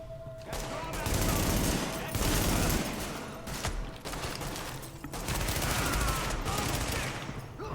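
Gunfire in the video game Tom Clancy's The Division, including a submachine gun, comes in dense sustained bursts with short breaks, loud and close, as a voice talks over parts of it.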